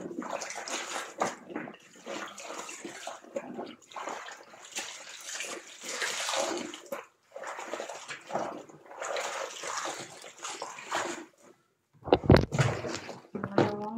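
Laundry rinsed by hand in water, sloshing and splashing in long repeated bursts with brief gaps, close and fairly loud, then a sharper clattering splash near the end.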